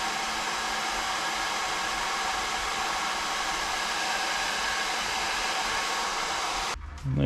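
A battery discharger's cooling fan blows a steady, even whooshing roar close by, unchanging for several seconds before cutting off abruptly near the end, with no speech.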